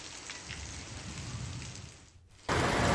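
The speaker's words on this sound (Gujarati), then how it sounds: "ભારે પવન સાથે ધોધમાર વરસાદ પડ્યો" Heavy rain pours down with strong wind in rural Dhari Gir, Amreli, a steady dense hiss that dips briefly before surging louder for the final half second; no voices.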